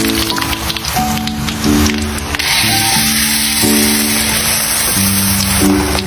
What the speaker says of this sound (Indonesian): Setelah semuanya siap, lanjut goreng deh.